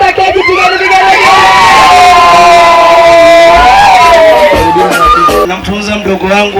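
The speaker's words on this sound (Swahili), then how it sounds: "pigeni vigelegele" Wedding guests at a cake-cutting celebration ululating in a loud, sustained high trill over a cheering crowd, with voices and hubbub throughout.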